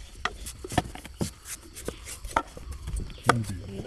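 Irregular knife chops on a cutting board while cutting green banana, sharp broadband thuds spaced unevenly, close by, with faint background noise and no talking.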